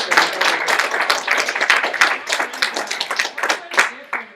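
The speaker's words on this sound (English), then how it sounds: "Can you clap?" A high school class claps together on cue, a loud dense burst of many hands clapping at once, fairly uneven and close, continuing for several seconds without speech.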